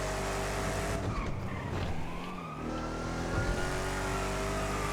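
Engine of a Buffalo car in the GTA video game, loud and meaty, revving continuously with tire skidding and squeal mixed in, close and steady throughout with no talking.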